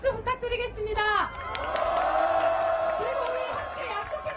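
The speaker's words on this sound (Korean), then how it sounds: "격려의 박수 부탁드리겠습니다." A crowd of high school students at a street rally answers a call for encouragement with sustained cheering and clapping that swells after a short burst of talk and holds steady throughout.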